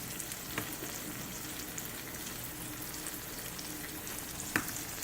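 A cheese pizza topped with salami cooks in a skillet and gives off a steady, fairly quiet sizzle and crackle. One or two small pops stand out, and nobody speaks.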